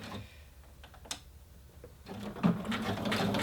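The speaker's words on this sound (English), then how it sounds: "So we're going to do a back stitch to start and then sew all the way around the hem." A sewing machine begins back-stitching and then runs along the hem of a pair of jeans. Light ticking and handling noises come first, followed by a steady, moderately loud mechanical whir that builds and continues.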